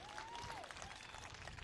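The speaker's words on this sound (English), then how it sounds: "give a round of applause for our retiring Best of Breed winners" Applause from the audience at a dog show's general specials ring, cheering retiring toy group Best of Breed winners; steady, dense clapping fills the whole stretch, with a faint tonal whistle near the start.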